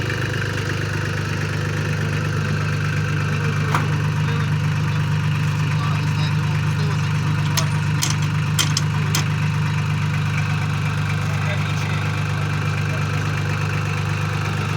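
Solis 26 mini tractor engine running steadily at idle during a hydraulics test, a loud, constant low drone with a few faint clicks and knocks over it, no clear speech.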